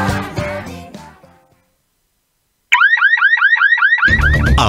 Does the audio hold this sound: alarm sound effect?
yes